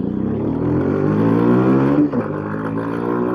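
A Rieju RS3 125 motorcycle revs steadily and loudly, its engine note climbing through the range with a brief dip near the end, with no talk over it.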